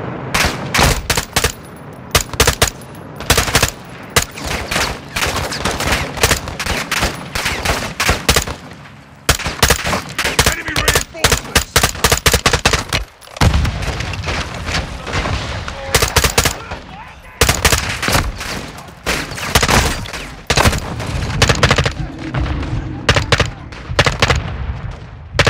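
Gunfire from the Call of Duty: Modern Warfare II campaign rattles almost nonstop in loud automatic bursts and single shots, with brief pauses, dense and close throughout.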